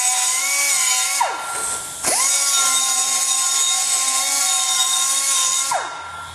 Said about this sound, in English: Cleaning up the burrs on this thing, making it look pretty.